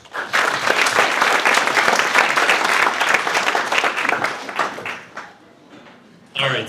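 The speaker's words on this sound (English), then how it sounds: "may I please get a round of applause for tonight's panel" An audience at a digital marketing panel discussion breaks into loud, sustained applause, dense clapping that fades out toward the end before a brief burst of noise.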